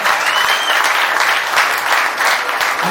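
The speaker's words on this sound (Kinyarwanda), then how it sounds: "Dukomere Yesu amashyi menshi cyane." A church congregation breaks into loud, sustained applause, dense clapping filling the whole moment without pause.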